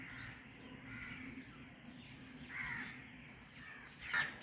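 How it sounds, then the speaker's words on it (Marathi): Crows caw a few times over a quiet outdoor background near a house facing a river at dawn. The calls are faint and distant, with one slightly sharper call near the end. "ओ पळय पक्षी पळय"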